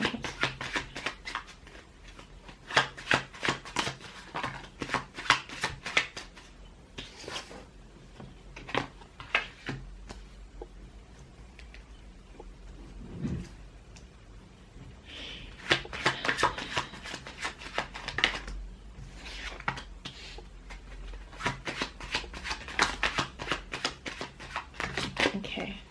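Deck of playing cards being shuffled in repeated riffle bursts of crisp rapid flutters, with pauses between rounds and a brief low murmur in the middle; no clear talk over it.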